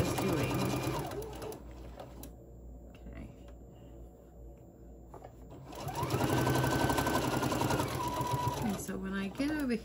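A sewing machine stitches the sides of a fabric face mask, running in close, loud whirring bursts with a pause between them, while a person talks throughout.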